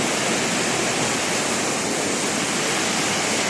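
Steady, loud rush of falling water at Sam Lan waterfall in a wildlife sanctuary in Sisaket, Thailand, a dense continuous roar filling the whole moment with no voices.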